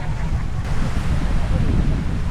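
Sea surf rolling onto the beach at Laiya, a steady loud wash of waves mixed with gusty wind buffeting the microphone, with no clear break between swells.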